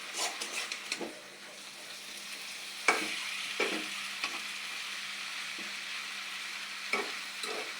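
Spices fry in a pan with a steady close sizzle, and scattered stirring scrapes and clicks of the utensil break through it. No one speaks.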